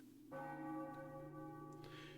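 A single church bell in Final Fantasy IX strikes once and rings on, its deep, humming tone sustaining loudly and evenly with no voices over it.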